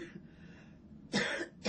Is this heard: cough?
yes